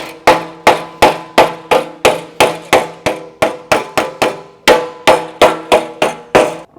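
Steady, loud hammer blows on sheet metal during metal shaping, about twenty sharp ringing strikes in a fairly even rhythm, each decaying briefly, close and without speech.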